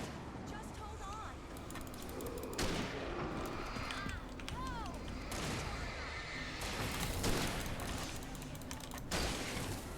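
Gunfire in the video game Alan Wake, with shots cracking at irregular intervals among rumbling ambience and eerie whistling tones, all fairly faint and continuous.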